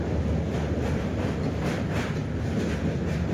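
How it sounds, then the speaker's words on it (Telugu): A superfast express passenger train passes close by at night beside the Krishna river, a steady loud rumble of wheels and carriages filling the whole stretch with no talk. "ఈ ట్రైన్ అయితే వచ్చేసింది"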